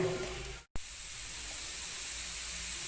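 Steady hissing and faint scraping from a pan as spices and frog meat are dry stir-fried, continuous and fairly quiet, with one brief dropout near the start.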